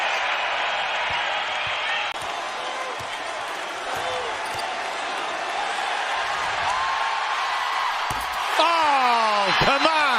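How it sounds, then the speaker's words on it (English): Basketball arena crowd in a Clippers game roaring steadily after a blocked shot, a dense, sustained cheer with whistles and sneaker squeaks rising toward the end. "Crowd is still reacting."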